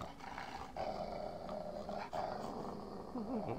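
A dog growls and snarls while biting at a door in the point-and-click adventure game Bud Tucker in Double Trouble, a steady, rough growl running through the whole stretch with brief dips and surges.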